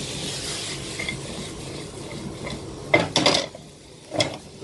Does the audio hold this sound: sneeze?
no